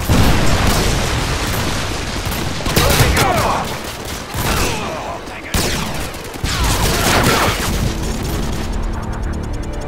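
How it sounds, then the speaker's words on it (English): Predator missile strikes explode in Call of Duty: Modern Warfare 2 as a loud, continuous battlefield roar of blasts and rapid gunfire fills the scene. Game voices are faintly mixed in. "Friendly Predator missile inbound."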